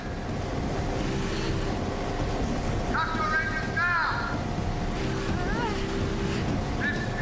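A boat engine drones steadily over wind and water, while voices call out intermittently over the motor.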